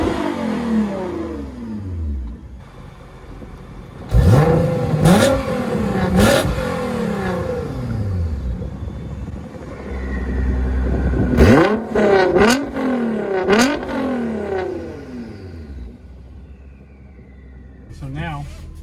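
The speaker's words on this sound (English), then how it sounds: "So this is with the exhaust open right now. Got a nice, pretty loud tone to it." Nissan GT-R R35 Super Sport on E85 with a Valvetronic Fi exhaust, valves open, gives loud, aggressive revs in two clusters of sharp rising and falling blips over a steady running engine, close by.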